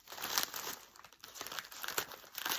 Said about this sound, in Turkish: Bunu da bir açalım bakalım bunun içerisinde ne var.